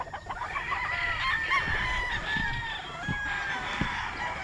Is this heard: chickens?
yes